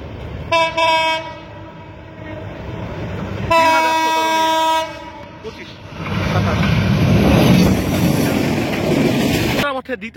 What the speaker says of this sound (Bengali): এটা হচ্ছে ব্রডগেজের একতা, পঞ্চগড় থেকে ছেড়ে আসা ঢাকা অভিমুখী একতা।